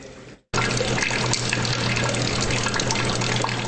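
Rainwater pouring steadily into big trash buckets inside a flooded restaurant during a California storm, a loud, close, continuous rushing splash that begins abruptly after a brief quiet gap.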